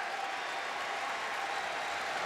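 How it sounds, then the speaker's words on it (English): A college basketball crowd at NC State's arena roaring and applauding as Florida State visits, a dense, steady wash of cheering and clapping with no breaks. "A big cheer went up as Spencer Newman makes his way to the scores table."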